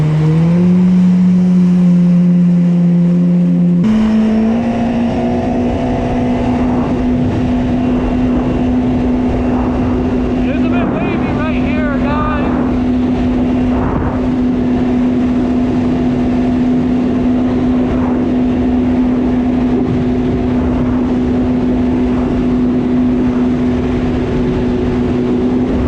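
A Kawasaki SXR stand-up jet ski with a swapped engine rides nearby, its engine rising to a loud, steady high-revving drone that holds on with a choppy, sputtering edge from the water.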